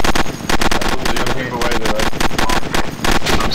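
Suppressing gunfire in the Arma video game, rapid loud bursts of automatic rifle shots in a fast staccato rhythm, close and continuous for several seconds with short pauses between bursts.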